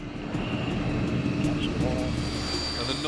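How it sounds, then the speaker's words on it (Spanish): An old Cold War–era jet aircraft engine roars steadily in flight, a dense continuous drone that holds loud throughout. "Y el ruido del motor aumenta."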